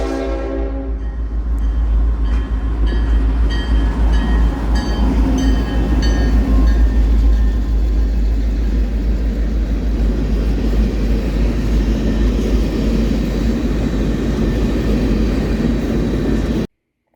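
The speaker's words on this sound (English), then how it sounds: "Mississippi Export Train 51 heading north to Lucedale." Mississippi Export Railroad freight train heading north to Lucedale, starting with loud horn blasts and then a long, steady rumble of rolling cars passing close by with no voices.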